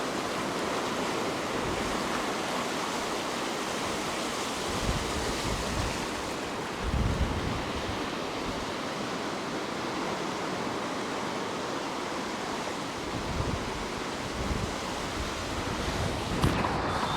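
Steady roar of ocean surf washing onto the shore, with a gust-like swell around the middle and wind noise throughout.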